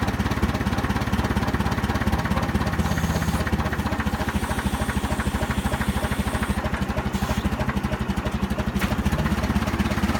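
An Oliver tractor engine sits at low idle, a steady, close, pulsing rumble with fast even firing and a light mechanical clatter, unbroken throughout.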